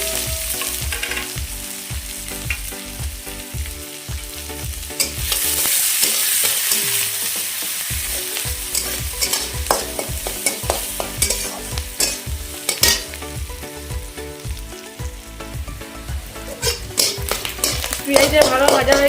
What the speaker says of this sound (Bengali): পেঁয়াজটা ভালো ভাজা হয়ে গেছে, কালারটা লাল হয়ে গেছে।